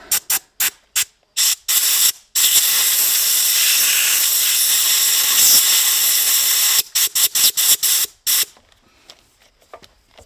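Compressed air from an airline blasting out a mini digger track guide part: sharp hissing bursts in quick succession, then one long continuous roaring blast, followed by more short stuttering bursts, loud and close.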